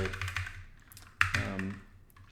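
Typing on a Moonlander split keyboard, a quick run of close, crisp key clicks with a sharper burst of several keystrokes partway through, heard alone and near.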